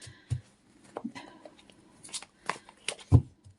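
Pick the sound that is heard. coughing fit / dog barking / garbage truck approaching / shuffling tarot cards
shuffling tarot cards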